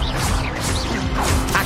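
Expelliarmus cast in the video game Hogwarts Legacy bursts out as a loud, dense rush of magical whooshes and crashing impacts, with swirling tones sweeping up and down over a thick low rumble in a short burst.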